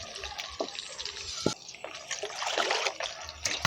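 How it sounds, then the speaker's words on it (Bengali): Water pours and splashes into a bowl in a home kitchen, a close, soft trickle and splash with a few sharper drips, heard alone. "গামলিতে জল নিয়ে নিলাম"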